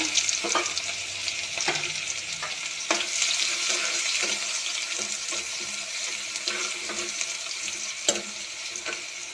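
Chopped garlic fries in hot oil with popped mustard seeds for upma, a steady moderate sizzle with scattered clicks and scrapes of a spoon stirring the pan.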